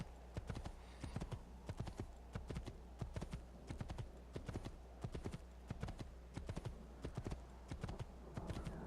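Horse hooves clip-clopping in the video game Assassin's Creed II, a brisk, even rhythm of close, crisp hoof strikes repeating steadily throughout with no talk.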